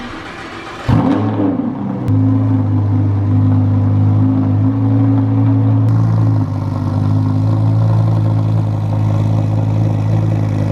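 A Lamborghini backing out, its engine firing up with a sharp blip and then settling into a loud, steady idle up close, with no talk.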